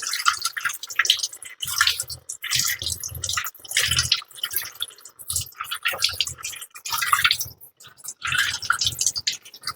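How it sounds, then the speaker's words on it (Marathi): Wet splashing and squelching come in uneven bursts as goat intestine is rinsed and squeezed by hand, with water dripping and sloshing up close. "हे आपल्याला स्वच्छ पाण्याने धुवायचे आहे"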